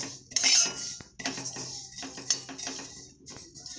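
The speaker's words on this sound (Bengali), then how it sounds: "মৌরি, হালকা করে ভেজে নেবে" Fennel seeds dry-roasting in a pan, heard as irregular metallic clinks and scrapes of a utensil against the pan, with bursts of light rattling at moderate loudness and no talk.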